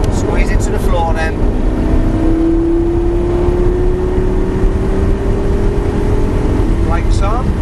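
A Lamborghini LP560-4 accelerates hard at full throttle on the Longcross circuit, its engine note droning and slowly rising in pitch under a loud, continuous roar, with someone talking over it.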